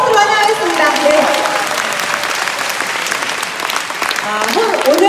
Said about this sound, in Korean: 큰 박수로 환영하겠습니다.